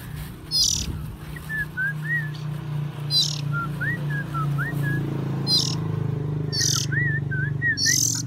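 An oriental magpie-robin (kacer) gives short, sweet whistled chirps in small bursts, with sharper clicking notes in between, fairly close against a steady low hum.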